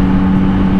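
Brief, loud, close engine note from a Yamaha MT-09 SP motorcycle picking up speed, a steady droning hum.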